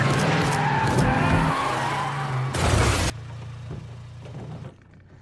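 A film car accelerates hard with loud tire squeal and skidding, a roaring rush that cuts off abruptly, leaving a fainter engine hum that fades toward the end.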